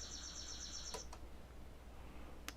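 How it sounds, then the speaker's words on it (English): A short bird call played back during a video editing lesson, a run of fast high chirps followed by two isolated sharp notes over quiet background air, faint and alone without talk. "Get the bird call there."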